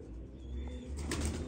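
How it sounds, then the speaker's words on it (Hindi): Pigeons of the 222 breed, champion racing birds, heard with wing flaps and light fluttering movement over a steady low background hum, no voices. "ये वो कबूतरों का आज आपको मैं शो करवा रहा हूँ।"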